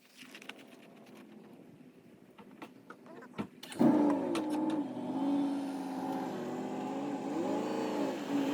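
A GMC truck's engine idles and runs steadily as the truck is pulled over, entering loudly partway through after a quieter stretch with faint clicks, then holding a continuous low rumble nearby.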